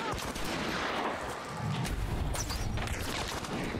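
Gunfire in the video game Hunt during a fight against a zombie, a dense, continuous wash of shots and booms heard close and loud, with faint speech in the mix.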